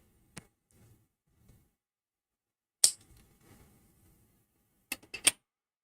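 Scissors cut something off in a few sharp, isolated snips separated by quiet gaps, with two snips close together at the end. The snips are close and crisp.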